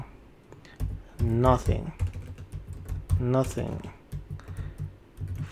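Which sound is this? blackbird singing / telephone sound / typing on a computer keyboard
typing on a computer keyboard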